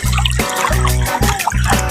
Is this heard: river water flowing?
yes